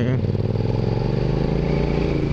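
A Suzuki SV650 motorcycle with an SP Tadao aftermarket exhaust rumbles at low revs, a steady throbbing burble close by with no pauses.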